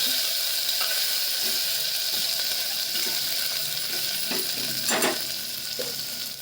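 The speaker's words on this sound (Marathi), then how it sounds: "अद्रक लसूणची पेस्ट टाकली अर्धा चमचा हळद टाकते घालून घेते" Ginger garlic paste and half a spoon of turmeric fry in a pan for a mixed vegetable dish, a steady sizzling hiss punctuated by several scraping stirs and soft clinks near the end.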